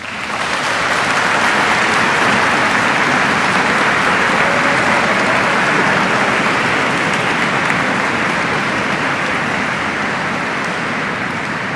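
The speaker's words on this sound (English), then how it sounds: "give them a massive round of applause" Sustained, dense applause from a graduation ceremony crowd inside Canterbury Cathedral, loud and even throughout with no talking over it.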